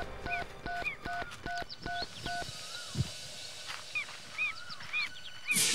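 A rapid series of dial tones beeps at a steady pace, followed by a pause and a few faint electronic chirps as the call connects.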